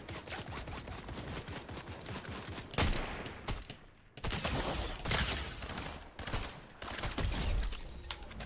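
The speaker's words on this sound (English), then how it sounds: "Who's that shooting at me?" Video game gunfire in a shooter match: dense, sustained automatic bursts rattle close and loud, breaking off briefly before resuming in heavy volleys.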